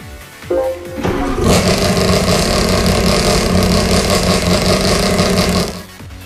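Mazda RX-7 touring car engine in Gran Turismo 5, loud and close: a rotary engine cranks and catches, then holds a steady, buzzy idle for several seconds before cutting off.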